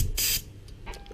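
Air hisses out in a short, sharp burst while a car A/C line on a Hyundai Elantra is bled, followed by a couple of fainter puffs, close and without talk.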